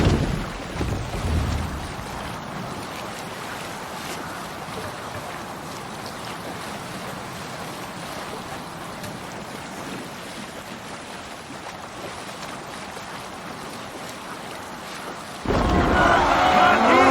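A Viking longship sailing through waves in Assassin's Creed Valhalla, with a steady wash of water and wind rushing past the hull, loud and constant, swelling into a stronger splash near the end.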